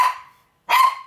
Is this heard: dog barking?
yes